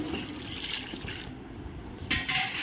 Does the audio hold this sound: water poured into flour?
yes